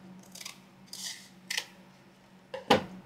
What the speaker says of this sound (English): I'm going to cut down this side, and I'm going to cut down this side.